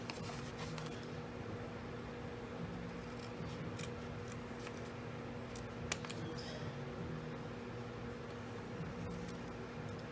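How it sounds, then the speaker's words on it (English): Scissors making small snips into scored card stock for a handmade pop-up camera card, heard as faint, sparse clicks over a steady background hum with no talking. "you're just going to snip up to this score line right here"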